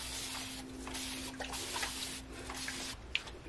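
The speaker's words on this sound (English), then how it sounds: "So all I'm going to do is just spray some water on it." Several faint hissing bursts of a spray bottle misting water onto human hair extensions, spaced irregularly, with a steady low hum underneath.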